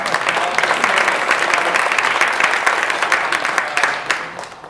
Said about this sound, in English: can we get a round of applause for State Representative Emerita Deb Eddy?